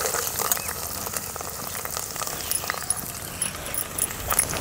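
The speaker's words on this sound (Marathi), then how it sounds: "आपल्याला कांदा भाजून घ्यायचा आहे" Onion sizzling and crackling steadily in hot oil in a pan, a dense continuous fry close by with no voices.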